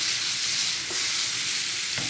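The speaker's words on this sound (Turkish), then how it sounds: "Şöyle kızartacağız Allah'ın izniyle." Chicken meatballs seasoned with garlic powder frying in oil in a pan, a loud continuous sizzle with occasional soft stirring scrapes.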